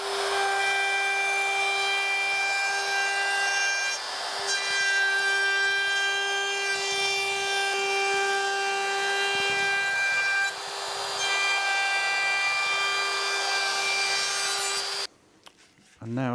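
A router rounding over the sharp edges of a wooden rip-cut jig gives a loud, steady high motor whine with a faint cutting rasp, running for about fifteen seconds before stopping abruptly.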